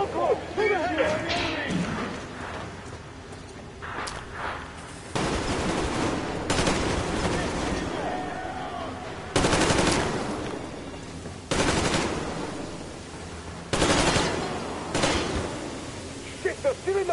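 Bursts of rapid automatic gunfire from a co-op horror shooter game, several loud volleys of a few seconds each separated by short pauses, with players talking over the action.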